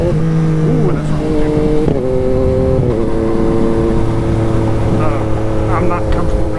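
A 2021 Yamaha MT-09 motorcycle accelerating hard, its engine loud and close throughout, with rising revs climbing sharply near the end.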